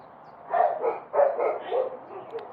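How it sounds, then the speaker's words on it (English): Neighbor dogs barking a few times at a distance, a loose run of five or six muffled barks over about two seconds with no talk. "We've got some visiting neighbor dogs. If you're hearing them bark, that is life."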